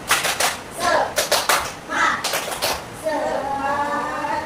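A school class performs a rhythmic spirit clap, bursts of hand claps in a patterned sequence, with children's voices chanting and calling along in between.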